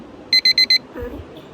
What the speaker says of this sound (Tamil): Alarm வச்சிச்சு light off.